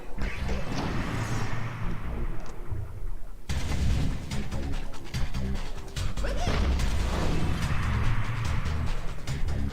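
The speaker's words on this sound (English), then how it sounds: "Oh, cannons are going to be an issue." Cannon fire in the Dungeon Keeper video game: loud, dense booming crashes and impacts repeating throughout, layered over game sound effects with no break.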